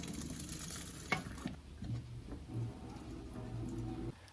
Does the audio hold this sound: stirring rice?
yes